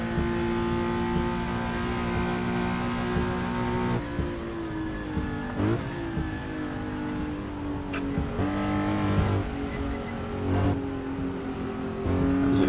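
A 1966 Porsche race car engine on the Spa circuit revs and drops through gear changes, a loud continuous onboard drone with a few sharp shifts and surges.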